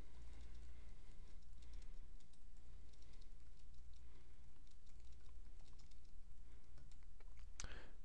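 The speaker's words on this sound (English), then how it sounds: "I can now type my message after this." Quiet, close typing on a computer keyboard while composing a tweet reply, a light, irregular patter of key clicks over a low steady hum with no talking.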